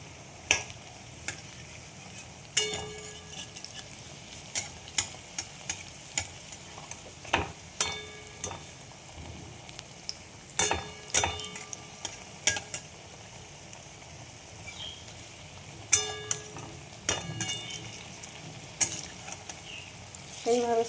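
Drumstick flower fritters frying in hot oil, a continuous soft sizzle broken by repeated sharp clinks and scrapes of a utensil turning them in the pan.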